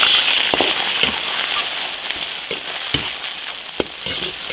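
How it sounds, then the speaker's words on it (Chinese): Pig lung stir-fries in hot oil in an iron wok with a constant bright sizzle. Scattered crackles and the occasional clack of stirring sound close by. "起锅烧油，猪肺下锅爆炒。"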